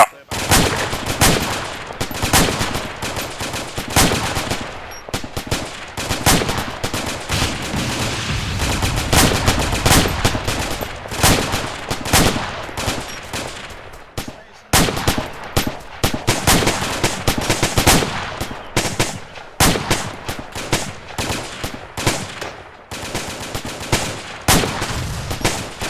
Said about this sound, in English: suppressive fire on targets